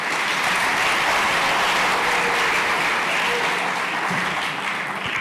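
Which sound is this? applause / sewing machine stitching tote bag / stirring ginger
applause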